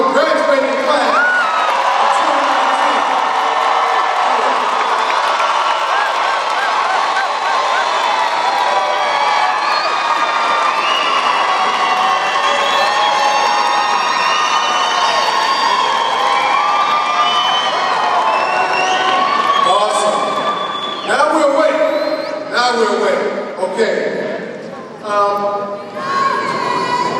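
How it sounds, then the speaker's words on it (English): Graduation ceremony crowd of families roaring, whooping and cheering loudly for the graduating class, a dense sustained wall of shouting with scattered claps breaking through near the end. "shout as loud as we can to wake up this morning and give a rousing applause"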